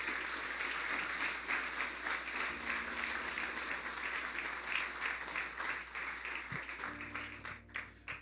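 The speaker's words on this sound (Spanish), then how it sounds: "Dele un aplauso al Señor." A church congregation claps steadily for several seconds in a dense, moderately distant wash of applause with a faint musical tone underneath.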